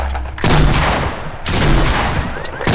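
A legendary heavy shotgun fired in Fortnite Battle Royale: three loud, close, booming shots, each with a long rumbling tail that blends into the next.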